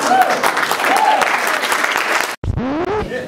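Loud audience applause rings through a hotel hall at a comedy show, then cuts off abruptly and gives way to a different, quieter passage with a voice.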